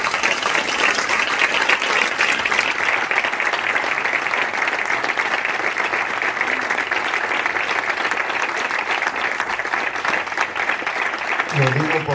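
An audience at a cultural week lecture applauds an archaeological excavation team, sustained dense clapping from a full room holding steady for several seconds, with a voice emerging over it near the end.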